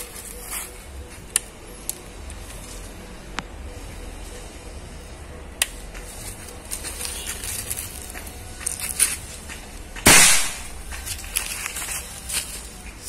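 A single sharp shot from a Marauder PCP air rifle fired into a chronograph stands out amid quiet ambient ticks and light handling clicks, with a few small snaps before it.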